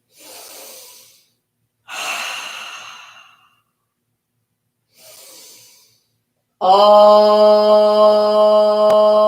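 Three slow, deep breaths in and out, each a soft airy rush with pauses between, followed by a long sustained hummed chant tone.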